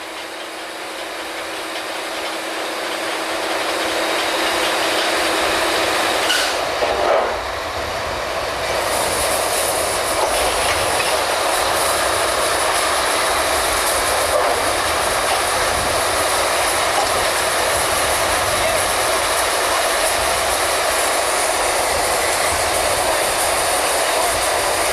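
Draw works winch on a drilling rig pulling pipe from the hole, with the brake being worked: a loud, steady mechanical roar with grinding and a brief clank early on, running continuously without speech.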